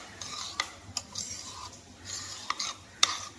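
Amaranth greens fry with egg in a pan, stirred by a spoon that clicks and scrapes against the metal in a few scattered strokes, quiet and close, with only a faint sizzle and no speech.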